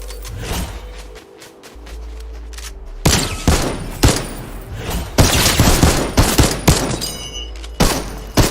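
Gunfire in Fortnite: loud, close shots repeat in irregular bursts, with rapid volleys building in the second half.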